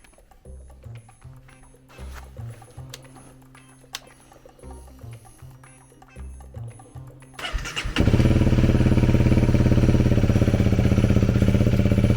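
Honda CRF 300L motorcycle engine cranking and firing up after an oil service, with light clatter of the workshop before a steady, loud idle takes over and runs alone.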